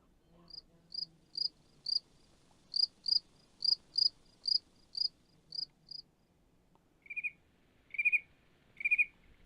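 Crickets chirp in crisp, evenly spaced pulses, a rapid train of high trills followed by a pause and a few lower, louder bursts, clear and close over near silence, mimicking a cricket chorus.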